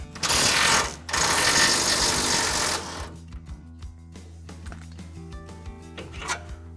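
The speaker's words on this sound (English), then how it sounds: "Next, we're going to remove the tie rod nut." Power tool spinning off the tie rod nut on a 2019 Ford F150 front suspension, a loud continuous mechanical whir for about three seconds with a brief pause, then quieter clicks and rattles of parts being handled.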